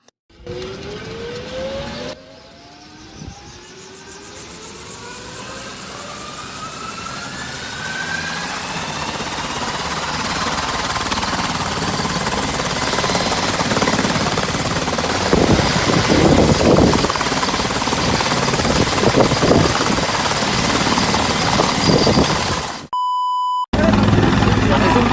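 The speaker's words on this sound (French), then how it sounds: "Notre intrépide bricoleur se lance dans son premier vol en plein air avec son hélicoptère fait maison." A loud homemade helicopter flying outdoors, its engine roaring steadily for most of the clip, rising whine and rotor chop building, then cutting off abruptly near the end.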